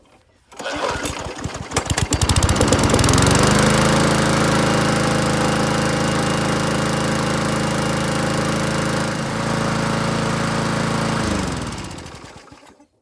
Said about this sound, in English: I'm gonna run this for a little bit, get the oil warmed up.